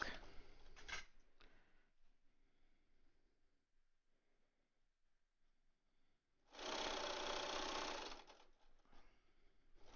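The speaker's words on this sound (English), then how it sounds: "I'm just sewing the bias to the mask." Sewing machine stitching bias binding onto a fabric face mask, heard as a loud steady running burst of a few seconds after quiet handling noises, with a brief burst near the start.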